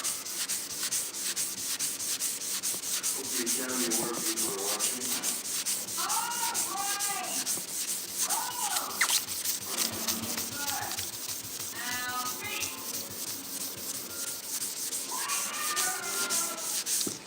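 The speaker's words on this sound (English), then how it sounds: "he's hand sanding, blah, blah, blah, it's fine sanding." Steady rhythmic rubbing of hand sanding with 400 grit sandpaper on a 1968 C10 truck cab continues close up without a break, with a voice talking over it at moments.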